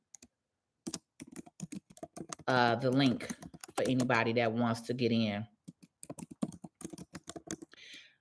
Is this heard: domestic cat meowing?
no